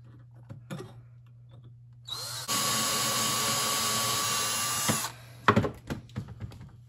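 A power drill bores into the metal muffler of a 1910-14 Flanders 4 motorcycle, a steady high whine lasting a few seconds before cutting out, with clanks and handling noises around it.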